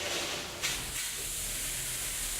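A grease fire flares on a stove during a test, a sudden whooshing hiss that surges after a half second and then settles into a steady roaring rush.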